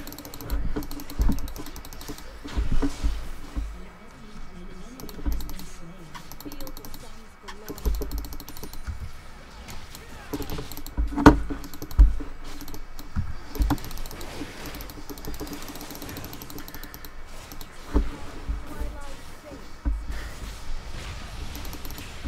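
A lagging computer keyboard is typed on during a League of Legends game, with irregular bursts of close, clicky keystrokes scattered across the whole stretch and faint murmuring in the background.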